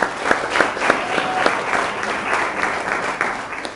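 An audience at a FYIOnline 2018 talk gives Chris a steady round of applause, dense overlapping claps throughout with a few sharper individual hand claps standing out.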